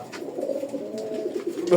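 A Rajgolla pigeon coos close by in one soft, continuous rolling call that swells slightly at the end.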